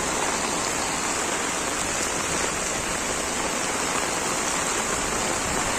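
Heavy rain pouring steadily at Manvelpada lake in Virar, a dense, constant hiss of downpour striking water and ground, loud and unbroken throughout.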